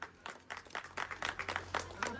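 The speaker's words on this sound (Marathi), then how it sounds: "टाळ्या वाजवा." A small group claps at a family gathering, with quick uneven claps that sound close and fairly faint, and a voice talks over them.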